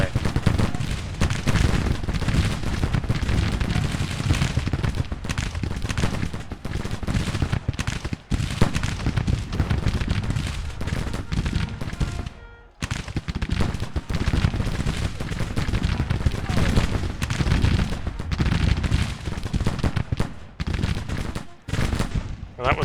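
Dense, continuous battle din from the Civil War strategy game Grand Tactician, with rapid cracks and booming cannon and musket fire rolling on almost without pause, briefly dropping out midway, and a voice talking over part of it.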